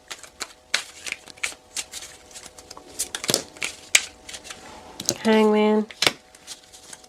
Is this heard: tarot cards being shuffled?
yes